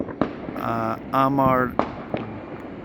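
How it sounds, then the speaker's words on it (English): Diwali fireworks in London go off in a few sharp bangs and crackles near and far, while people talk and exclaim excitedly over them. "These fireworks are Giotto."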